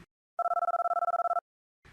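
A telephone rings once with a single burst of rapid electronic trilling while a call to the police is placed, clear and alone in quiet surroundings.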